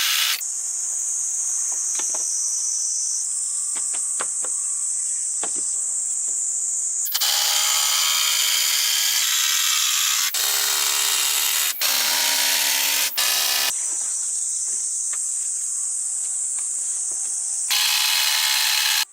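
Power drill or impact driver driving screws into timber wall frames while building a traditional Japanese house; several loud bursts of high whining motor, separated by quieter gaps with light knocks, close by and without talk.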